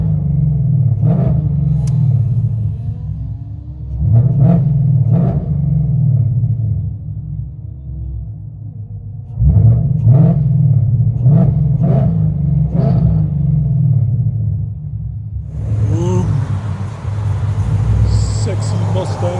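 Ford Mustang GT 5.0L Coyote V8 running on E85, fitted with headers and a Magnaflow RTR axle-back exhaust, heard from inside the cabin: a steady deep droning rumble broken by several short rev blips, with a hissy wash near the end.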